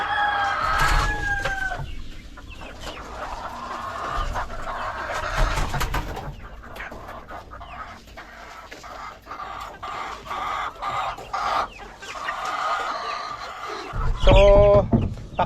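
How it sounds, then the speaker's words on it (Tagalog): Decaled White and Rhode Island chickens cluck and squawk around a farmyard, with a rooster crowing loudly near the end and faint background noise between the calls. "pakawalan ko lang itong mga decaled white nating mga manok. Decaled white at Rhode Island."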